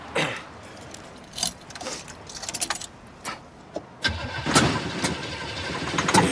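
Keys jangle and a car engine cranks repeatedly without catching, a starter fault on an old car, with bursts of metallic rattling and whirring fairly close and loud.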